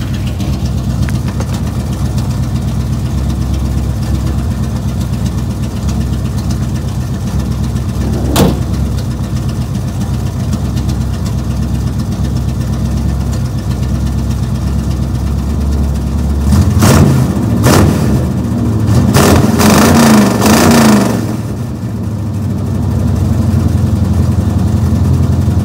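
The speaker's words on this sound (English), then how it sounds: "I'll give you a full rev" A 1984 Chevy K10 squarebody pickup engine idles steadily and loud, then near the end rises in a few short, sharp revs before settling back to idle, with no talking.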